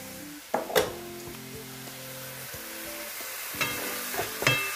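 Bami noodles sizzle and fry in a wok while being stirred, a steady close hiss with several sharp clanks and scrapes of the utensil against the pan, and no one speaking.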